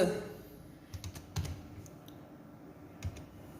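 Code being typed on a computer keyboard, quiet, close key clicks in a few short clusters with pauses between them.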